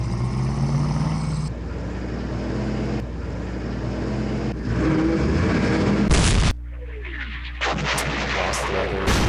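Artillery fire in the wargame Campaign Series West Front: a dense, continuous run of deep booms and rumbling blasts, loud and close, with a short hissing burst partway through before the barrage resumes.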